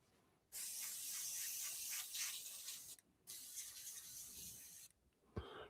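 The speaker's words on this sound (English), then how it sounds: "And then just spray off the excess." Water sprays to rinse off excess after carving a piece at a woodturning lathe: two long, close, hissing bursts separated by a brief pause, then a short knock at the end.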